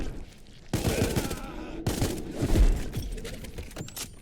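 Rapid bursts of gunfire from the space shooter game Spacebourne 2, with repeated close, loud shots in fast volleys and a heavy impact partway through, over a constant game soundscape.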